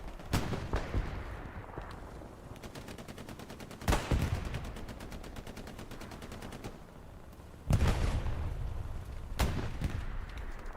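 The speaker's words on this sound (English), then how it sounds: "SPA rounds are coming in as well" Self-propelled artillery rounds landing in the World War II shooter Hell Let Loose, several sharp, heavy blasts spaced a few seconds apart over a low rumbling battlefield background.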